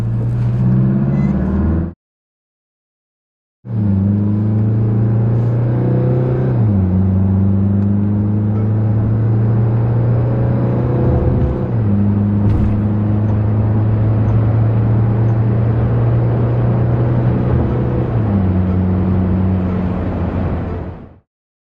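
A Tata Safari diesel SUV accelerates from standstill to 100 km/h, its engine drone rising and dropping back at several gear changes over about twenty seconds, heard from inside the cabin, steady and fairly loud, no talking.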